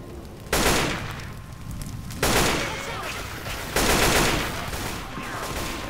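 Gunfire in the zombie shooter Left 4 Dead 2, three loud sustained bursts of rapid shots separated by brief gaps, with constant game noise beneath.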